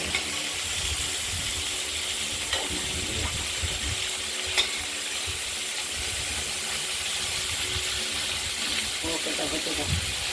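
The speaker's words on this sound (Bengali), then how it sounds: "তেলে ভাজতে দিয়েছি নুন হলুদ মেখে" Pointed gourd coated in salt and turmeric fries in hot oil, giving a steady close sizzle and hiss with occasional stirring clatter, while someone talks over the cooking.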